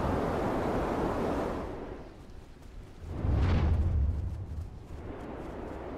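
A loud, roaring gust of wind in the video game Never Alone surges up midway, rumbling low and swelling before easing back into a steady windy wash.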